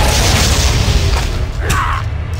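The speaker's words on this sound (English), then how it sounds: "Sweeping hammer strike." A sweeping hammer strike attack in Torchlight 2 lands as a deep, booming impact, followed by a brief bright swoosh and ringing tail, loud and continuous with no speech.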